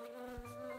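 A bee's flight buzz, used as a sound effect in a children's fable, gives a brief, steady, faint drone with a tonal hum.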